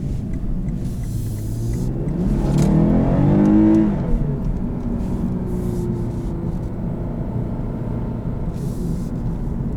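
A 2020 Lexus IS350 F-Sport with its 3.5-litre engine revs up through the upper RPMs, the intake sound swelling loudly to a peak before settling back to a steady drone, with no talking over it.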